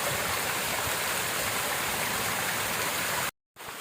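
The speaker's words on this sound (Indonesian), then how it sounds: "Main di sini nih air terjun mini." A mini waterfall and stream at an eco camp in Bogor rush steadily with a dense, even wash of water, close and constant until an abrupt brief cutout near the end.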